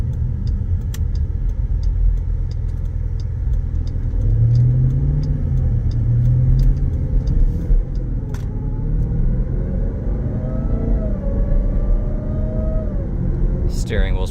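A 2020 Jeep Grand Cherokee Trackhawk with an aftermarket intake and 62,000 miles cruises on a test drive, its steady engine rumble and rising intake whine filling the cabin continuously, with a brief higher whistle near the end.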